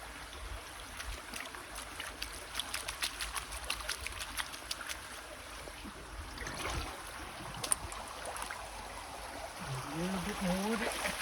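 A small creek flows steadily in the background on a gold prospecting outing, a continuous trickling wash with scattered splashes and faint low rumbles, with no talk over it.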